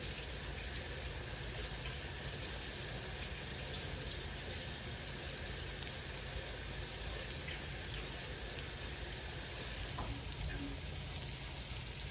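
Seafood rinsed by hand under running water makes a faint, even hiss of flowing water that holds steady throughout.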